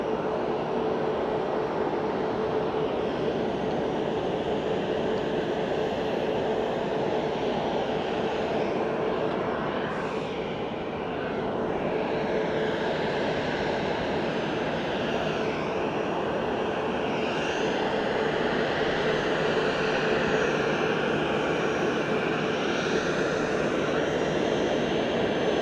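Airbus A320neo jet at Fukuoka airport, a steady broadband engine roar holding for the whole stretch with a brief dip partway through, fairly distant and without speech.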